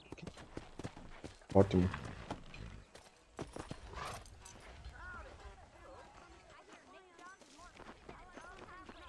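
Horse hooves clip-clop in the video game Red Dead Redemption, a short burst of hoofbeats followed by scattered soft steps, with someone speaking over the game sounds.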